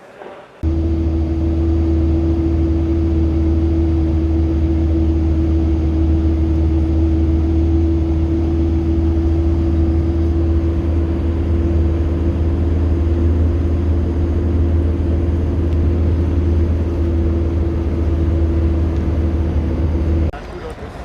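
Inside a JETT bus on a day trip in Jordan, a loud, steady engine drone with a constant low hum fills the cabin for about twenty seconds, starting and stopping abruptly, with no talking.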